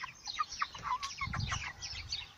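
Broiler chickens, both hens and cocks, kept in a wrapped coop or chicken tractor in cold weather, cluck and chirp in quick overlapping bursts, close and fairly quiet.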